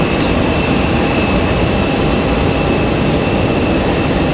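Qantas Airbus A380 airliner at Raleigh Durham airport on a stormy evening, its steady broadband jet roar loud and continuous throughout, with no talking.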